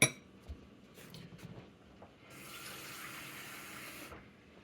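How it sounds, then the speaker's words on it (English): Water runs from a tap into a bowl of dry high-protein casein cookie dough, about half a cup. A few clinks and bumps come first, then a steady faint splashing stream of about two seconds with no speech. "So this is the part where you just add a little bit of water."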